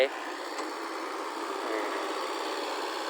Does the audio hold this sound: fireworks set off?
no